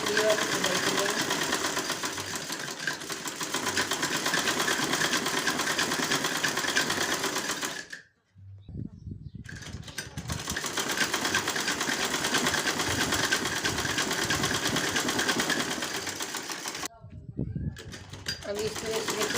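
A sewing machine runs in long continuous bursts while stitching an Afghani salwar, a steady close whirring rattle that stops briefly twice and then starts up again.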